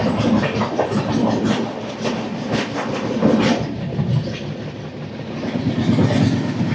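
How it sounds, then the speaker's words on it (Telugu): A Kazipet-Dornakal MEMU train rolls past close by, a loud sustained roar with rhythmic clickety-clack of wheels over rail joints across the whole stretch. "Kazipet Dornakal memo train."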